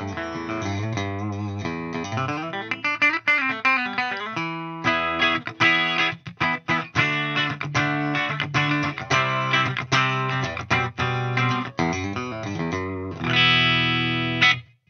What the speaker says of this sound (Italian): Aggiungiamo un pochettino di riverbero, un po' di modulazione, così andiamo a sentire un po' come si comporta la chitarra